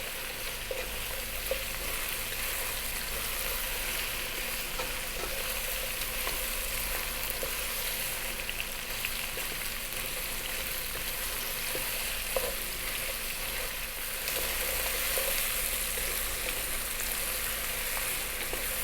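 Eggplant cubes frying on high heat in a pot for beef vegetable stew, a steady close sizzle with occasional stirring scrapes throughout, no voices.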